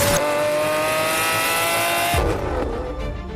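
A high-revving Lexus LFA V10 engine screams loudly and steadily, then drops in pitch as it shifts and eases off.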